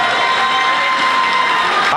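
A basketball crowd in a gym on senior night cheers loudly and steadily, a dense wash of voices and shouts that holds for the whole moment without a break.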